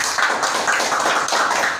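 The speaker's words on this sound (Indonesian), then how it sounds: "Tepuk tangan dulu dong." An audience claps at a cryptocurrency trading seminar, a brief, dense burst of many hands close by, steady and loud for under two seconds.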